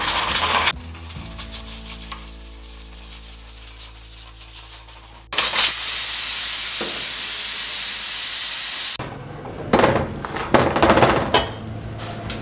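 A pressure cooker holding mutton karahi is vented and opened after 25 minutes of cooking, letting out a loud, steady rush of steam for several seconds, followed by clanks and rattles of the pot and lid.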